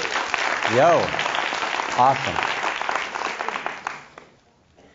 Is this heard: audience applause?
yes